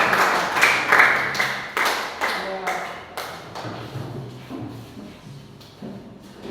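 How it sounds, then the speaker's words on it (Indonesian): A school class claps together for group 4 in a steady, rhythmic beat of about eight sharp claps that gradually soften, while voices talk underneath. "Oke, tepuk tangan buat ya."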